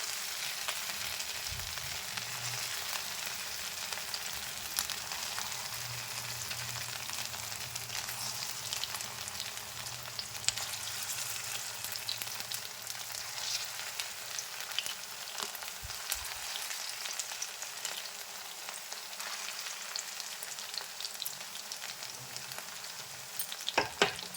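Leftover-rice pakoras fry in hot oil with a steady, dense sizzle and crackle that runs the whole time. Faint clicks and stirring sit underneath, and no one speaks.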